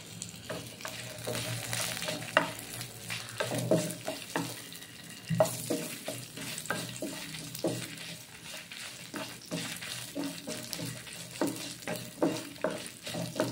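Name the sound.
onion, garlic and dried red chilies frying in pan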